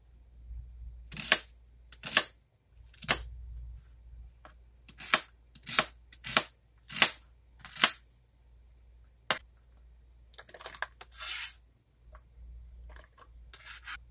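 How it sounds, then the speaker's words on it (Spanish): A knife chopping a small onion on a cutting board, with about a dozen distinct crisp cuts at an irregular, unhurried pace over low background hum, close and clear. "Picamos la cebolla. Esta es una cebolla pequeña. La voy a picar toda."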